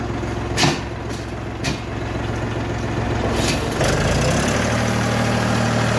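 A 2023 tractor's diesel engine idles with a steady low rumble, a few clicks and knocks over it, and the pitch shifts slightly near the end.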